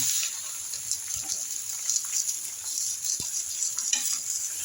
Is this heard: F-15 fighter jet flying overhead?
no